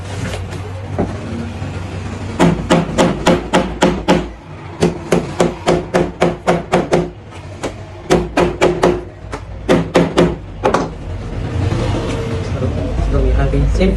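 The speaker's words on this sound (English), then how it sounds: "So you will use your hammer to support it so that it will hold it very firm." A hammer strikes a rivet pin into a mini handbag, giving repeated sharp metallic taps in quick groups of several blows with short pauses between them, close and loud, with a speaker talking during the pauses.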